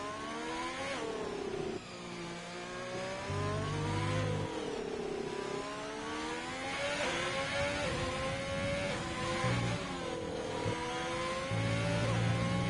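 An F2 race car on an out lap at Abu Dhabi in a racing game, its engine revving and shifting through rising and falling pitch sweeps as it passes, fairly faint and heard alone with no voices.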